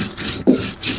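Chillies ground into paste for a kochur loti and hilsa dish, heard as rough rhythmic scraping and rubbing strokes of stone on stone, close and steady, with a heavier grinding push near the middle.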